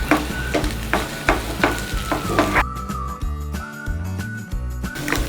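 Masala being pressed and mashed with a spatula in a nonstick pan, giving repeated soft thumping presses and scraping stirs over a steady low sizzle, close and moderately loud, with no talking.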